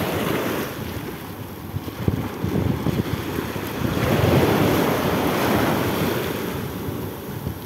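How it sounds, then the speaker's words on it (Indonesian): Ocean surf breaks steadily on a beach while strong wind buffets the microphone, the wash swelling louder midway through and rolling on without any voices. "Kali ini saya berada di pantai-pantai"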